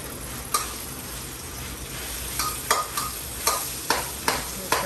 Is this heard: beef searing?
yes